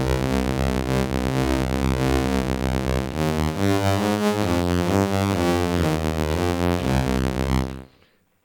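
Elektron Tonverk synth playing a single cycle waveform through its grainer, a dense buzzing tone with a shifting, stuttering chord pattern, loud and continuous for about eight seconds before cutting off abruptly, no talking.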